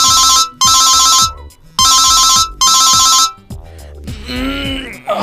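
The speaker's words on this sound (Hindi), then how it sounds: "एक दिन कालिये ठेकेदार ने रात में फोन करियो।" A loud electronic ringtone plays in repeated bursts with short gaps, a bright melodic phone tune that shifts into a warbling tone at the end.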